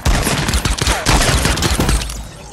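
Gunfire in Fortnite Battle Royale, a loud, dense burst of rapid shots with cracking impacts that continues for about two seconds before tapering off, with no voices.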